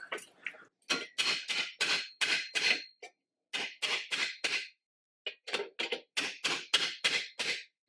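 A hammer drives a dull chisel along the muffler seam of a Husqvarna RV30 zero-turn mower, flattening the metal with sharp, close, rapid metallic strikes in quick runs separated by short pauses.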